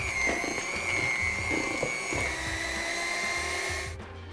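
An electric hand mixer with beaters whirs steadily through a heavy chocolate cake batter made with mayonnaise, a high, even motor whine with soft knocking from the beaters, running loud and close before cutting off at the end.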